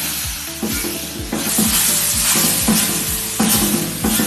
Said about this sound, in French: on va repasser de l'eau, faire attention de ne pas se brûler avec la paille de fer, et on va aller pour nettoyer